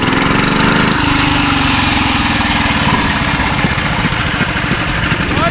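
A small BCS walk-behind mower engine drones loud and close while towing on the road, a steady rough rumble with slight shifts in pitch, running without pause.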